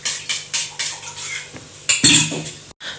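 Egg being beaten with a spoon in a bowl for egg noodles, a run of quick rhythmic clinks and scrapes of metal on the bowl, close and fairly loud, with no talking.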